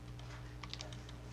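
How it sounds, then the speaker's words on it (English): Faint computer keyboard typing, a brief run of soft key clicks over a low steady background hum. "you can type in description"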